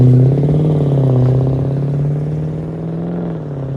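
A 2007 Jaguar XK-R with a 4.2L supercharged V8 and a muffler delete rumbles close by, its exhaust note swelling slightly in a rev before settling into a steady, loud burble, with no voices.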